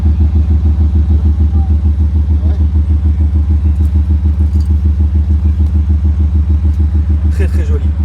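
Range Rover Sport Startech with a special option idling and revving nearby, a deep, evenly pulsing engine burble like a boat's, with brief faint clatters over it and no clear talk.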